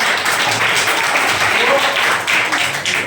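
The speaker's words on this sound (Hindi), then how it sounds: "ताली बजा दो" Students in a classroom clap together, a loud, close, continuous patter of many small hands lasting about three seconds, with voices faintly mixed in.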